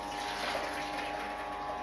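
Homemade juice streams out of a juicer in a steady, even liquid gush, faint and continuous with no breaks.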